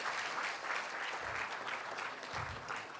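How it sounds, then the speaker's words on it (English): Guests at a gala dinner applaud to welcome a table of new arrivals, giving a soft, even round of clapping from a room-sized crowd with no talking over it. "Would you give them a round of applause to welcome them?"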